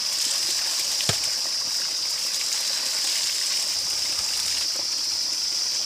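A cold mountain stream in Nepal rushes past while people wade across it, a loud, close, continuous gushing with a faint splash or two and no talking.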